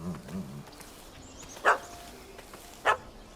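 A dog barks twice in The Witcher 3: Wild Hunt, Hearts of Stone, with two sharp, loud barks about a second apart over a low game ambience and faint murmuring at the start.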